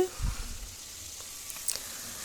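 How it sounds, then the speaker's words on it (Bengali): Chicken meat frying in hot oil for a chicken bhuna curry, a steady close hiss with a brief louder sizzle at the start and faint clinks, no talk. "তেলটা একটু গরম হয়ে আসলে আমি দিয়ে দেব মাংসটা"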